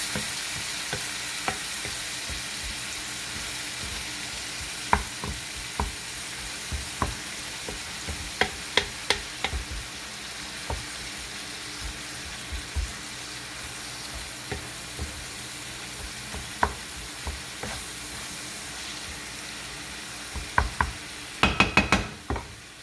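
Ground beef sizzling and frying in a pan for homemade Hamburger Helper, a steady close crackle with frequent scraping stir knocks and clatters of a utensil against the pan, growing busier near the end.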